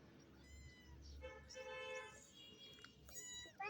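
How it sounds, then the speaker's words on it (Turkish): A cat meows several times in quick succession, close by, with rising and falling cries over a soft background rumble. "Bak şu kedi."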